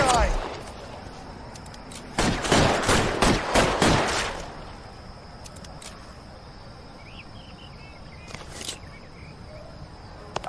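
Gunfire in L.A. Noire, a quick volley of several sharp shots over about two seconds, loud against a quiet background of crickets, followed by a lone shot later and brief speech.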